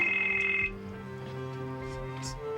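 Electronic telephone ringer trilling in a steady, rapid warble for under a second at moderate loudness, then cutting off abruptly, leaving a low background drone and faint murmurs.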